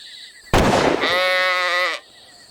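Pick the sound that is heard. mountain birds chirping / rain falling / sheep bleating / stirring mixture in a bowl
sheep bleating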